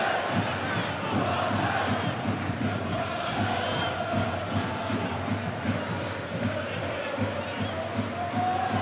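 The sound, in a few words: away fans chanting and cheering at a football match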